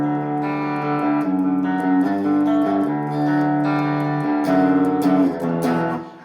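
An Enya Nova Inspire carbon-fiber guitar plays through its built-in amp on the clean channel: ringing chords and single notes sustain clearly, loud and alone, with a few quick strum changes.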